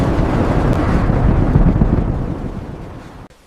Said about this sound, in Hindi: अचानक आसमान बदल गया। नीले बादलों की जगह काले तूफान ने ले ली।